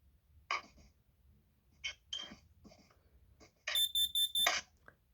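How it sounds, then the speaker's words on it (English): A KN-Seal PIC combined smoke and carbon monoxide alarm under test, first a few scattered clicks and short bursts, then a loud shrill beeping pattern of four rapid pulses, fairly close. "This can alarm and smoke, but it's also a carbon monoxide alarm."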